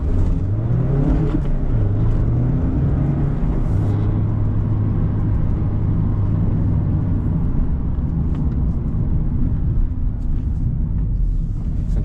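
A 2023 Mazda Miata ND2 Touring with a six-speed manual drives along, its engine note rising and falling through the gears over a steady road rumble, loud and continuous inside the cabin.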